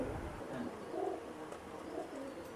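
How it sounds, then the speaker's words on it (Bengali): An Oman Teddy pigeon coos in soft, repeated low rolling notes over a faint background hiss, fairly close and alone, with no voices. "এই হচ্ছে আপনার আলোচিত ওমান টেডি"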